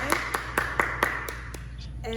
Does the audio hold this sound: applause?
yes